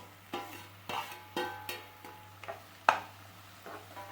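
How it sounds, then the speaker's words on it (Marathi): Onions and tomatoes frying in a pan for pav bhaji, stirred with a utensil that makes about eight close, evenly spaced scraping knocks over a faint, steady sizzle, with no voices. "त्याच्यात टोमॅटो टाकूया।"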